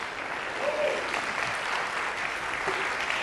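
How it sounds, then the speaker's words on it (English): Audience at a live interview event breaks into applause, a dense, even wash of many hands clapping at once, sustained and fairly loud with a brief voice or cheer mixed in. "Give her another round of applause."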